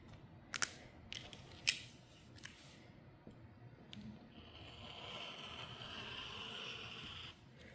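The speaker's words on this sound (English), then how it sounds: "Now let's cut it apart and press it" Scissors cutting apart a printed quilt fabric panel along a line: a few crisp snips early on, then a steadier soft slicing hiss as the blades run through the cloth, close and fairly quiet.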